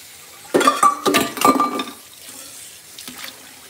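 Sugar bomb tomatoes on the vine are rinsed under a running kitchen tap, with a few close splashing bursts and light clinks at the start before the water fades to quiet.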